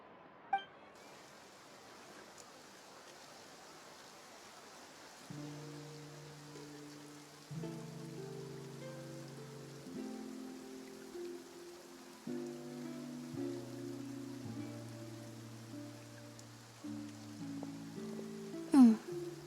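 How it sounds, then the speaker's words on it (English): Rain falls in the video game Genshin Impact, in the Fontaine region, as a steady soft hiss, while layered game music chords play over it, with a brief clink near the end. "Looks like rain."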